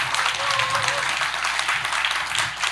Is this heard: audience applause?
yes